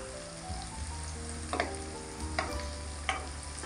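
Fish frying in a covered pan, a soft steady sizzle with a few distinct clacks of the lid or utensil breaking through, fairly quiet and close, no voices.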